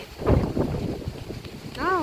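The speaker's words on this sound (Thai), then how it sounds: "ลมแรงมากเลยวันนี้" Strong wind blows outdoors, buffeting the microphone with a steady rumbling roar and gusts, while people talk faintly underneath and a brief high whistle-like tone rises near the end.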